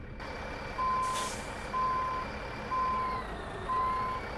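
A truck backing into a loading dock in American Truck Simulator, with four evenly spaced reversing beeps over a low steady engine rumble and a brief hiss of air brakes near the start.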